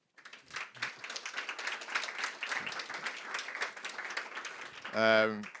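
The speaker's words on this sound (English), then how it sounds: "give yourselves a round of applause" A hackathon audience gives a round of applause, a dense patter of many hands clapping steadily at moderate level. A voice briefly rises at the very end.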